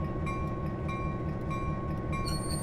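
A steady, repeated train bell clangs at an even pace over a constant rumbling locomotive drone, with no talking, in the Train Simulator 2020 video game.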